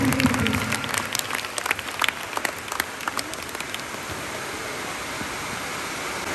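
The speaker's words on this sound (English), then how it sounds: "With a thunderous rounds of applause" An audience applauds at a school art fest inauguration, a broad wash of clapping that is loud at first and fades to a steady distant hiss over several seconds.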